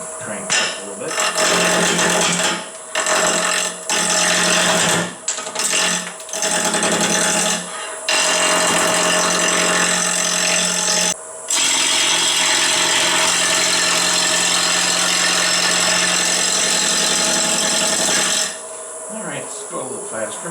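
A wood lathe spins a turned wooden rolling pin at higher speed, giving a continuous loud whirring rasp of the cutting tool on wood, broken by a few short pauses.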